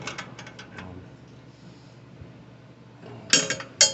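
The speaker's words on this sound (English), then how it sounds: "3/4 inch socket to tighten this up" Ratchet with a 3/4 inch socket tightening a bolt on a frozen Coleman Powermate 2000 watt generator, with a few quick clicks at the start and a couple of sharp metallic clinks near the end, close by.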